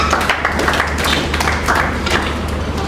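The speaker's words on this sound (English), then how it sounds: "Clap for yourself" Workshop participants at a youth bootcamp session clap for themselves, producing a loud, dense wash of many hands clapping continuously from start to finish with no talking on top.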